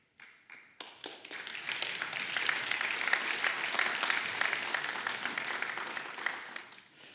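Conference audience applauding during a security keynote in The Hague, clapping that swells quickly from a few hands into a full, steady round before tapering off at the end.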